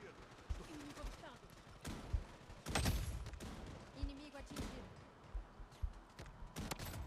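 Shotgun fire in a video game, several sharp blasts at irregular intervals with a heavy boom in the middle, mixed with other game noise and quiet talking.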